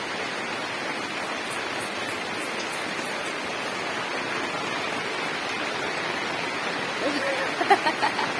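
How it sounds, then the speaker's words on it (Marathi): A large amount of rainwater flows in a stream outdoors after rain, a steady broadband rushing that stays even and close throughout, with a few small splashes near the end. "इकडे लय पाणी चाललंय"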